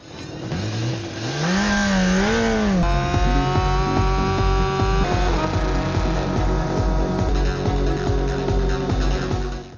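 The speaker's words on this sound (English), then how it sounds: "Rafa immediately speeds up on the motorcycle and carries out the orders given to him" A superbike-style motorcycle accelerates hard, its engine note sweeping up and down in pitch before settling into a loud, sustained high-revving roar with gear-like steps, close and continuous.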